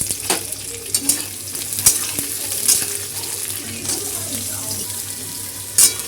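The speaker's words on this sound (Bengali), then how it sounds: "তারপর দিয়ে দিচ্ছি পেঁয়াজ কুচি" Chopped onion hits hot white oil already flavoured with chopped garlic in a pan, sizzling steadily while a spoon scrapes and stirs in a few louder clattering strokes, close and fairly loud.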